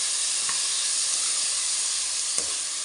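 Chana dal sizzles in hot oil with a loud, steady, close hiss, broken by a couple of faint clicks from stirring.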